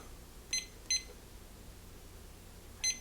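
Three short electronic beeps sound from a SousVide Supreme water oven as its timer is set during farmhouse cheese making, two close together and a third a moment later, faint over a quiet background hum.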